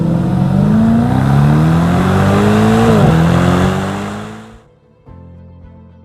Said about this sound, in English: I really think it's time to go for a drive because you have to see how good this car is